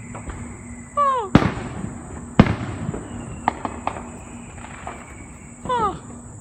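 Fireworks burst outdoors at night among tall trees, several loud sharp bangs spaced apart with crackling and whistling trails between them, heard at a moderate distance.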